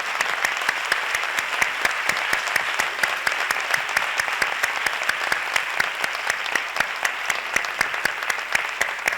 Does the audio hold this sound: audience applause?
yes